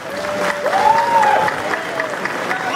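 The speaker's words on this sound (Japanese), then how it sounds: "どうぞ大きな拍手" Crowd applause rising at a fighting event in a ring arena, a sustained, dense clapping wash with a tonal ring like a voice or whistle briefly on top, fairly loud throughout.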